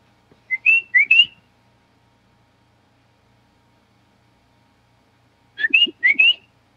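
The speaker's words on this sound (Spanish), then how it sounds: "Aquí escuchamos silbidos." Two short bursts of faint whistling in a forest, each a quick run of rising notes, separated by several seconds of near silence.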